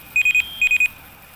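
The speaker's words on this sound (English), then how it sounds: "they see that the alarm went off" Raid alarm in the game Rust: two bursts of three sharp, high electronic beeps in quick succession, loud and clear with no talking.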